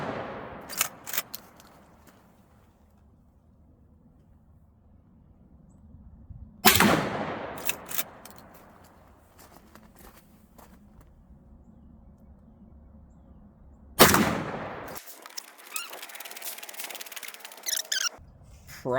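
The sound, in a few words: shotgun firing slugs at target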